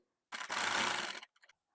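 A sewing machine stitches a garment sleeve in one short close burst of rapid whirring lasting under a second. A couple of faint ticks follow it in an otherwise quiet room, and there is no talking.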